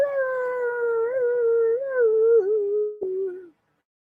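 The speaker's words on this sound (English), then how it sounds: "all those coyotes making all those crazy sounds" A single coyote howl, loud and sustained with a wavering, gradually falling pitch that breaks briefly near the end before fading, heard alone without talk.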